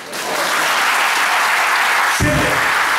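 A packed hall at the Balçova municipality's Village Institutes award ceremony bursts into loud, dense applause during a speech, a sustained roar of clapping hands with no talking over it.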